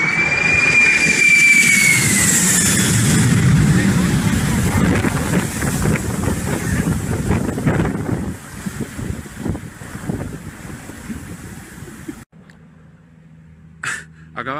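A firefighting supertanker jet roars overhead in a loud, close rush of engine noise and wind buffeting that slowly fades, followed by near silence and a brief burst of voices at the end.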